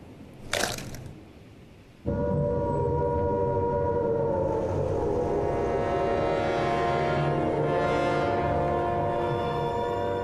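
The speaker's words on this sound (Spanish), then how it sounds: "En Gran Bretaña, las sirenas antiaéreas suenan" A loud, sustained wailing World War II air raid siren blares steadily after a brief crackle and thump, droning on without pause.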